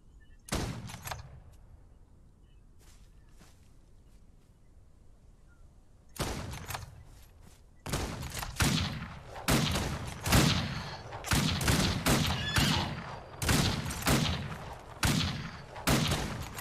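Bursts of gunfire from bandits in a Wild West outlaw video game: a few scattered shots, a lull, then a dense run of rapid, loud reports fired in quick succession.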